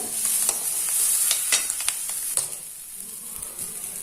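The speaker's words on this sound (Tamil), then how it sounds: "ஸோ மீடியம் ஃப்ளேம்ல வச்சு நல்லா ஃப்ரை பண்ணிடுங்க" Pepper and cumin frying on a medium flame, a bright continuous sizzle broken by repeated sharp spoon clicks and scrapes against the pan, close and fairly loud.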